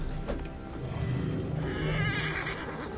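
A horse whinnies loudly and close in the game Assassin's Creed Origins, a shaky rising neigh lasting a couple of seconds, with hoof sounds around it and no talking.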